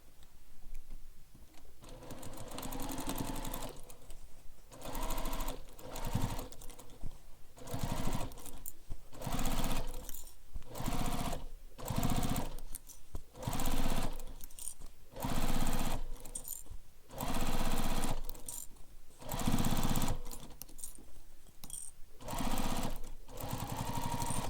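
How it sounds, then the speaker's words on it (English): A sewing machine stitches straight across the top edge of a backpack through several fabric layers, running in steady close bursts with short pauses between runs. "we're just sewing across this top straight edge here, and we're sewing through all the layers"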